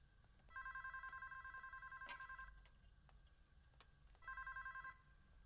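A telephone rings in two trilling bursts, separated by a pause with some clattering, fairly clear and close in an otherwise quiet room.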